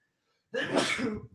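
A single sharp sneeze bursts out after a moment of quiet, close and loud.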